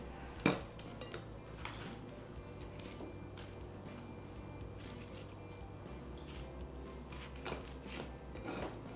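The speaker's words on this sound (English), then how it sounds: "And then just give it a good stir." Soft clinks and scrapes of a utensil against a pot come as frozen mixed vegetables are stirred, with a sharper knock near the start and quiet, close, irregular clatter throughout.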